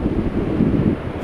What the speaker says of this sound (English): It's the biggest gust I've had for maybe half an hour, 40 minutes.